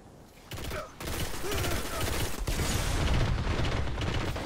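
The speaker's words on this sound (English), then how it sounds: "I'm just shooting" Rapid gunfire in the Destiny: Rise of Iron video game on PS4, dense overlapping bursts of shots filling the whole stretch at steady loudness, with a faint voice briefly audible.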